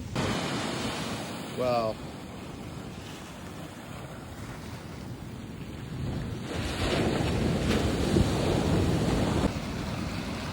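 Ocean surf washes in where a creek breaks through a sand berm to meet the sea, a broad continuous roar with wind buffeting the microphone and a brief exclamation over it.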